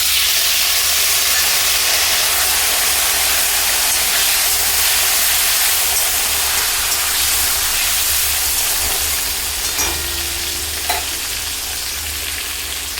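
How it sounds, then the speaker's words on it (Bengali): Potatoes and eggplant fry together in a pan, making a loud, steady, hissing sizzle held close throughout, with a few faint utensil clinks near the end. "আলুগুলো কিছুক্ষণ ভাজার পরে দিয়ে দিচ্ছি কেটে রাখা বেগুন।"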